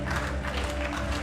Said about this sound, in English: And the big applause of the audience for the sub-junior